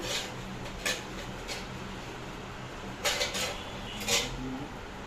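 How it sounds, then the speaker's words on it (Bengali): Potatoes go into a biryani pot with a few soft metallic clinks and knocks of utensil against cookware, spaced apart over a low kitchen hiss, with no speech. "এবার আমি দিচ্ছি আলু"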